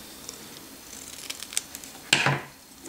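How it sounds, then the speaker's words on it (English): Scissors snip through a paper tidbit from a Christmas craft frame, a few faint snips followed by one brisk, louder cut near the end, with no talking over it. "I'm going to cut off the side"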